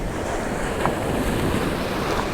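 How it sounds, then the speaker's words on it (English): Ocean waves break on a public beach in a continuous, loud roar of surf with wind buffeting the microphone, and no voices are heard. "Waves are relentless."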